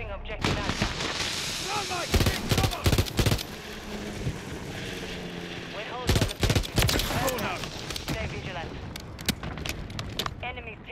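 A gun fires in Call of Duty: Modern Warfare III hardcore mode in rapid bursts of sharp close shots, with two dense volleys and scattered single reports, while a voice talks over it.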